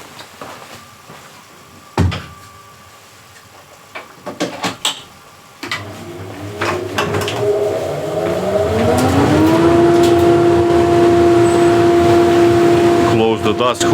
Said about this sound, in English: I need to turn on the dust extractor